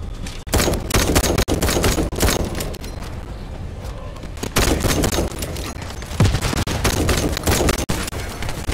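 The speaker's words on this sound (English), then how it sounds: "I went to throw a bomb or a grenade, but the damn exploding barrels are there" Dense bursts of gunfire and booming barrel explosions in the shooter game The First Descendant, loud and close, with rapid volleys and sharp blasts throughout.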